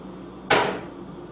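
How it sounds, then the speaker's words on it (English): Almonds dropped into a mixing bowl for healthy granola bars, one sharp clattering hit that decays quickly over faint background hiss. "Put your almonds in."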